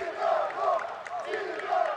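Moscow Dynamo supporters roar and chant in a stadium after a goal for Dynamo-2 against Leon Saturn, a massed wave of voices rising and falling at a moderate distance.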